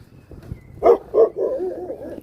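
A dog on a village road in rural Italy lets out two sharp, close barks followed by a lower, drawn-out whine, with no talking.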